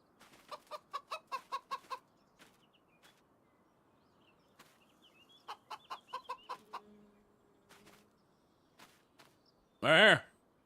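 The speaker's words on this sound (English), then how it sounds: "There's chickens in this field too." Chickens in an open farm field cluck in two short rhythmic bursts of rapid clucks, fairly faint and distant, followed by a sudden loud squawk near the end.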